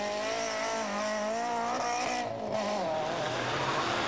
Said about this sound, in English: finished second in Class 2 in their sideways Escort